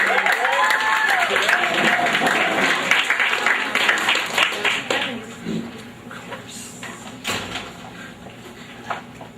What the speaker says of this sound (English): Big round of applause for Laura